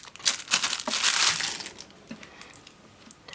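Plastic packaging holding a pair of socks crinkles and crackles as it is opened, a close, fairly quiet rustling burst followed by a few softer scattered crinkles.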